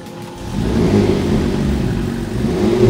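A brand-new Alpine sports car, just off the factory line with zero kilometres, running its engine on a test circuit outside the plant, a steady close rumbling idle that swells as it revs.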